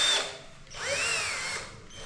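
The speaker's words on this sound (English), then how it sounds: "This is a drilling." A power drill whirs in two bursts, a short high whine followed by a longer run that rises and falls in pitch, fairly quiet and close with no talking.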